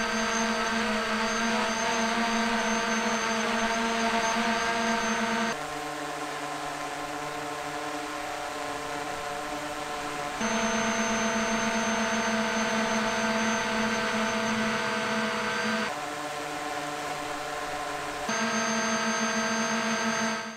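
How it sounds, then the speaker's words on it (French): Parrot Anafi AI drone flying, its rotors giving a loud, steady high-pitched whine with strong harmonic tones that step down and back up in pitch several times as the drone changes speed. "Je le trouve assez bruyant ce drone"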